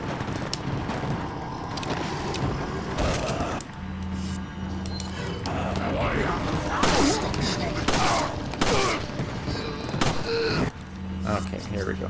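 Shotgun blasts from Resident Evil 4 gameplay, several loud booming shots scattered through the clip over a steady background hum and game sounds, with someone talking over them.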